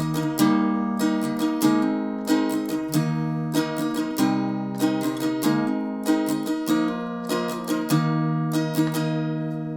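Close acoustic guitar strumming in a steady rhythmic pattern, crisp downstrokes and upstrokes moving between chords including G, for a country song, played alone without speech.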